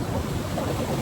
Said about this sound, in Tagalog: Ayan, laki ng alon.